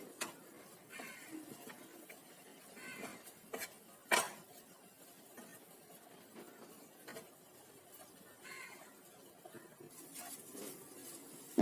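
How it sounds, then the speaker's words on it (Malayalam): A spoon clinks and scrapes against a pan while squid thoran, Kerala style, is stirred until dry, giving quiet irregular metallic taps and scraping over a soft background hiss. "കുറച്ച് സമയം ഇതുപോലെ ഇളക്കി കൊടുത്താൽ വെള്ളമൊക്കെ വറ്റി നല്ലപോലെ ഡ്രൈ ആയിട്ട് കിട്ടും."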